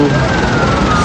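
A loud, steady siren wails from a nearby ambulance carrying bodies from a fatal toll-road crash.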